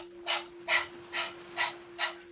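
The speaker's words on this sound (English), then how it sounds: "Breath of fire. Deep breath in. And now panting like a dog." Rhythmic panting breaths of breath-of-fire yoga breathing in a Kundalini yoga session, five sharp breathy pulses about half a second apart, close and fairly loud over a steady low hum, with no talking.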